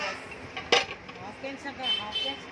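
Metal cooking pots and pressure cookers handled in a Ulhasnagar shop give one sharp clank followed by faint, scattered clinks beneath ongoing chatter.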